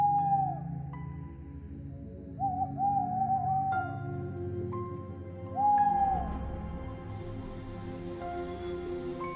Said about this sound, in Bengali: মাঝরাতে পেঁচার বিদকুটে ডাকে ঘুম ভেঙে গেল।